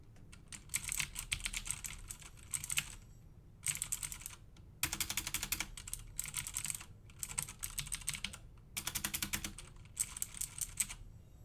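Rapid clacky keystrokes on an inexpensive mechanical keyboard resembling a Corsair, typed in several bursts separated by short pauses, close and fairly quiet.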